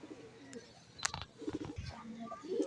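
A racing pigeon at its loft gives soft, close coos and low murmurs, with faint wing and cage sounds around it during a short, quiet stretch.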